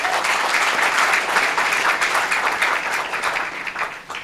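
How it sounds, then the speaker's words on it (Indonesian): Steady applause from an audience at an alumni gathering, dense and continuous clapping throughout at an even, fairly loud level with no voices rising above it. "Tepuk tangan buat Pak Hanif."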